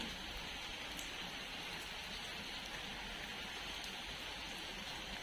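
Steady, soft rain falls continuously on surfaces during an afternoon that has turned dark, a faint, even wash of sound with no voices and no breaks.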